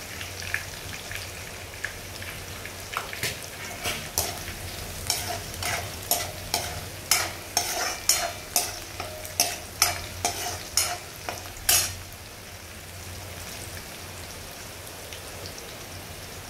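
Garlic and grated coconut fry in a pan for poha chivda while a spoon stirs them in regular scraping strokes over a steady sizzle. The stirring stops near the end and the hiss carries on alone.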